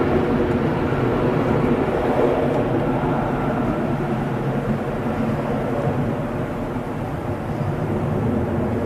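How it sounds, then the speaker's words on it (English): A British Airways Airbus A319 airliner heading back to London Heathrow, heard near Manchester Airport as a steady, moderately loud engine rumble that holds evenly throughout with no voices. "British Airways A319 on the way back to London Heathrow."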